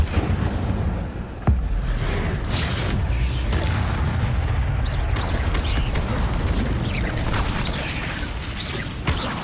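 Combat spells fire in Hogwarts Legacy during a fight against spiders: a sharp boom stands out over a dense, continuous roar of magical impacts, creaks and crashes, with spell names shouted over the action.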